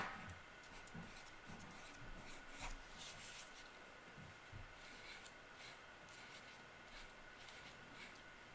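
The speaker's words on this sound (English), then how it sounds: "I'm going to write Happy Valentine's Day" Someone handwrites Happy Valentine's Day on a homemade kids' Valentine's card, making soft, close scratchy strokes in short bursts against a quiet room.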